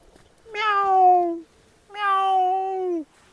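A cat gives two drawn-out meows, each about a second long, loud and close, with a short pause between them and no other sound.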